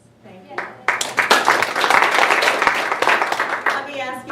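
An audience breaks into applause at a humorous speech contest, a dense burst of clapping that swells quickly and holds steady for several seconds, with voices mixed in.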